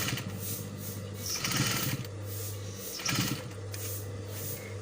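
A sewing machine stitching a shirt collar, close and fairly loud, running in short bursts of rapid mechanical whirring broken by brief pauses, with no talking.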